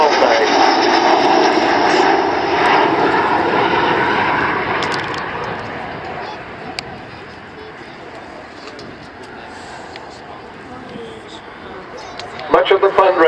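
Avro Vulcan XH558 bomber passing over an RAF Waddington airshow, its loud jet roar strongest at first then fading into the distance, with a commentator talking over it.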